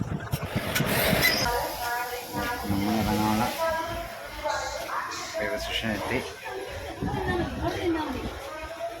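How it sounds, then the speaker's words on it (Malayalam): Busy indoor crowd ambience at Ernakulam railway station with overlapping chatter, a steady hiss and low rumbling machinery, loud and continuous. "എറണാകുളം റെയിൽവേ സ്റ്റേഷനെത്തി"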